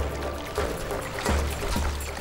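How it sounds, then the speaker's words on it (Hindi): Water gushes through a hole in a wooden boat, a bubbling, splashing pour heard up close in uneven surges, with a sharper knock at the end. "सुराख है कश्ती में, पानी भर रहा है।"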